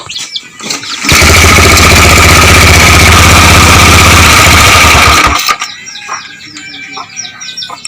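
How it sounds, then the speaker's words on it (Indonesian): A Honda motorcycle engine bursts to life and runs at a loud, steady idle for about four seconds, then cuts out abruptly when the ignition key wire is touched to the frame, leaving faint background noise and chirps. "pada saat motor kalian hidup dan disentuhkan ke bodi atau massa, maka motor akan mati"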